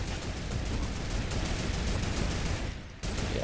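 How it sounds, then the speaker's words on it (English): Rapid gunfire crackles inside a building during a Fortnite Chapter 2 match, a dense sustained fusillade with a brief dip near the end before resuming. "there's gunfire inside still"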